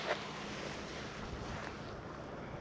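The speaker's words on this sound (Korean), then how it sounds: "바람이 불어가지고" Wind blows steadily across a reservoir while bass fishing outdoors, a constant broadband roar of wind noise buffeting the microphone.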